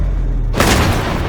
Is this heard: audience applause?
no